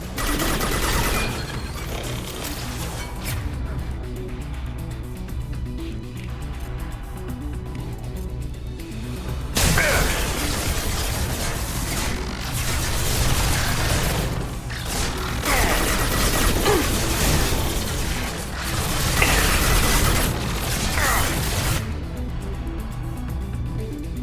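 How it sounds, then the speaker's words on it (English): Sustained heavy gunfire in the Mass Effect Legendary Edition video game, a dense continuous barrage of rapid shots and mechanical clatter that intensifies after a brief break, loud and close throughout. "Taking heavy fire."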